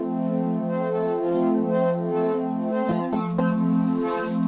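A steady, sustained tone with rich harmonics plays continuously, then takes on a sweeping, whooshing flanger effect toward the end, with a few sharp clicks.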